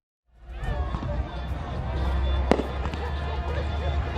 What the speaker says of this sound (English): if you can hear the music and the fireworks